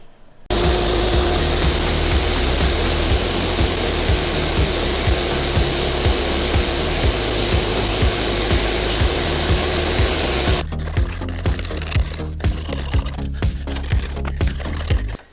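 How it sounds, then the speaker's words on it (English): Big sander grinding down a resin knife handle, a loud continuous abrasive roar close by that runs steadily for about ten seconds, then cuts off to quieter scraping and handling noises. "I'm sorry I couldn't talk over that big sander thing there"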